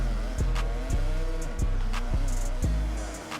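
A dirt bike spins out in the Monster Energy Supercross video game, with a steady two-stroke engine whine broken by several sharp thumps and skids at regular intervals, loud and close throughout.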